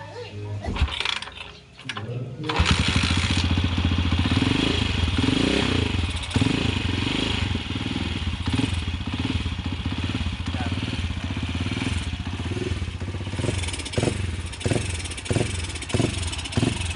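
A motorcycle engine without a capacitor and with no battery fitted runs loud and close after a few seconds of startup clatter, idling with a rough, steady throb and some revving, with someone talking over it.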